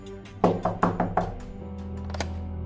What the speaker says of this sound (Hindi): उसने दरवाजे पर दस्तक दी